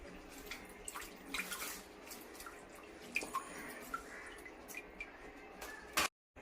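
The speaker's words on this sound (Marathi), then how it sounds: "आता ही सगळी पानं मी अशी धुवून घेणार आहे" Colocasia leaves being washed in water at a kitchen sink, quiet trickling and dripping with scattered small splashes and a brief louder clatter near the end.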